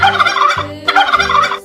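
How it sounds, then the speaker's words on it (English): Turkey gobbling loudly and up close, two rapid rattling gobble bursts back to back. "Turkey."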